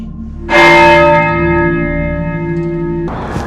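A single loud church bell strikes for curfew in Glasgow, a bright clanging peal with a long ringing hum that fades slowly over about three seconds before another strike begins.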